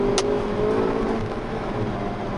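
Hyundai i30N performance hatchback exhaust droning steadily inside a tunnel, a loud continuous engine note with slight rising whine, brief sharp pop near the start, no talking.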